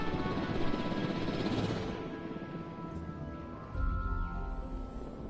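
Helicopter in Jurassic World Evolution, a steady whirring rotor drone with broadband engine noise that holds loud throughout, dipping briefly near the middle before surging again, with no talking.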